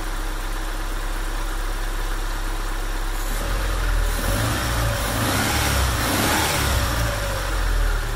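A Mazda B2000 pickup engine idles steadily, then revs up under throttle from about three seconds in, holding a raised, rougher mid-range roar that swells and eases, close by with no talk.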